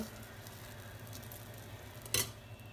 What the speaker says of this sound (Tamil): இப்போ தோசை மாவை எப்போதும் போல் நீங்கள் தோசை ஊற்றுற மாதிரி ஊற்றிக்கோங்க